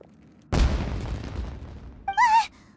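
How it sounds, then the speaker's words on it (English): A sudden booming explosion like fireworks in the video game Genshin Impact, a loud close blast with a long rumbling decay, followed by a short bright tonal game chime. "Was that an explosion? It sounded like fireworks."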